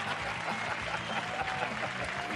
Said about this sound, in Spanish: Aplauso para Marcelo.